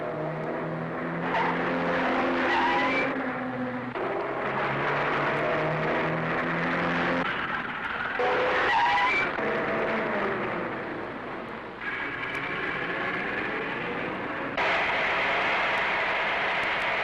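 A 1930s car speeds along in a chase, its engine humming and roaring steadily with shifting pitch, with loud rushing noise and harsher squealing bursts toward the end.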